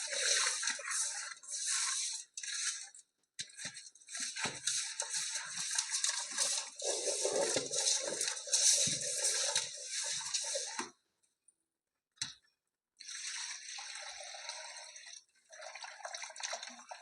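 Pieces of fish are rinsed under running water in a village kitchen, with steady splashing, dripping and pouring that pause briefly before resuming, close and fairly loud.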